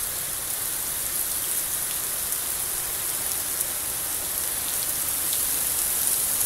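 A heavy rain downpour in Montecito, Southern California, hisses steadily and evenly on surfaces, a continuous close wash of drops with no voices.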